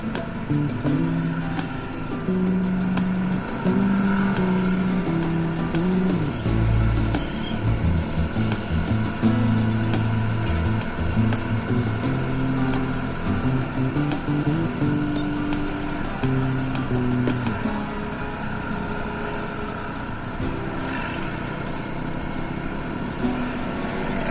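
A motorbike rides along a road in Bogor on a fresh early morning, its engine humming steadily and close throughout with shifting pitch as it throttles gently, plus a brief deeper rumble midway and no talking.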